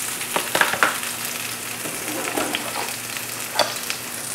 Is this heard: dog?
no